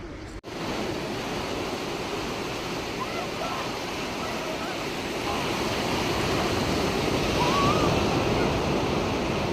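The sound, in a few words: sea waves at the shore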